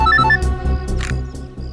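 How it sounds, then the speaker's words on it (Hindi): A phone rings in a tense police crime drama, loud and electronic, with repeated rhythmic ring bursts and tonal beeps sounding close and alone. "दया का फोन आ गया।"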